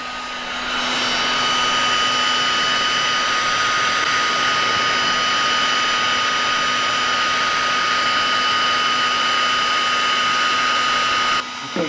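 A heat gun blows hot air onto glue on a belt for an old tool, a loud, continuous whooshing hum with a steady whine that runs almost the whole time and then stops abruptly.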